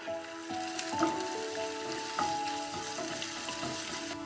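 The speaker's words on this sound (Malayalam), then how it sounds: "വെളിച്ചെണ്ണ ചൂടായി കഴിയുമ്പോൾ ഇഞ്ചി ചേർത്ത് കൊടുക്കാം." Ginger sizzling and frying in hot coconut oil in a pan, a steady crackling hiss with a few sharper pops, close and fairly loud with no voices.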